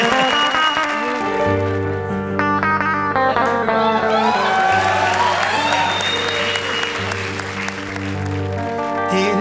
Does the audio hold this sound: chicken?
no